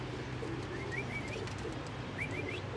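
A breeding pair of Kamagar pigeons, the hen sitting on eggs, gives faint cooing with a few soft, short calls over a steady background hum, with no voices.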